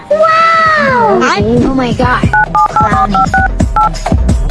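A phone number is dialed on a new mobile phone, a rapid series of short electronic keypad tones that follows a brief whining, voice-like sound, loud and close.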